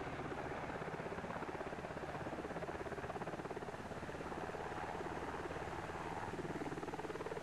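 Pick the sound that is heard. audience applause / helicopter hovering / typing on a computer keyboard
helicopter hovering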